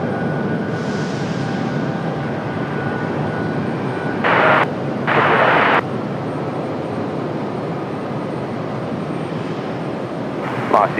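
Continuous jet aircraft rumble at Raleigh-Durham International Airport, with airliners preparing for pushback; two short bright bursts of noise cut in midway and another near the end over the steady engine drone.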